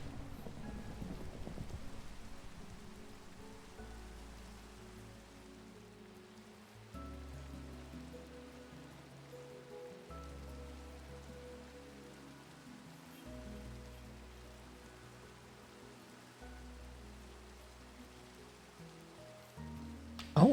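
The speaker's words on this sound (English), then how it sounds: "Oh, it's a thunderstorm." Thunderstorm rain in a Minecraft world: a soft, continuous patter runs under repeated low, rumbling swells of thunder that rise and fade every few seconds, faint overall and without any voices.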